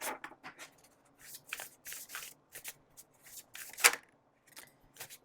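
Oracle cards in a timeless tarot reading are shuffled and drawn, giving repeated soft, close riffling and flicking bursts in an uneven rhythm, with one sharper snap near the end and no talking.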